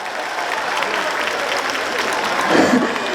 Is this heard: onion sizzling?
no